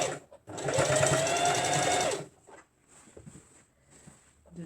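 A sewing machine runs in one loud burst of about two seconds while stitching short pants, followed by quieter handling sounds and faint clicks.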